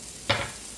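Onion, sweet pepper and seasoning dropping into a hot pot for Jamaican curry salmon, one short loud sizzling burst that fades within half a second.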